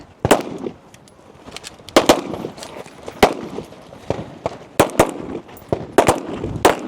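Pistol shots ring out on a competitive shooting stage with targets about 18 yards away, a dozen or so sharp cracks fired in quick irregular bursts, close and loud over faint shuffling.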